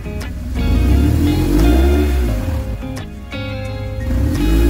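A BMW R1150GS motorcycle engine revs steadily to 3000 rpm and holds at a raised pitch, its low drone rising and falling slightly, loud and close throughout.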